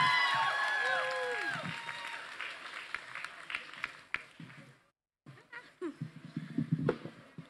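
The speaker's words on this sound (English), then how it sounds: "Give them a big round of applause, everybody." Crowd applause at an outdoor activist rally opposing the Kavanaugh nomination, loud at first and thinning into scattered claps and cheers after a brief pause, with voices mixed in.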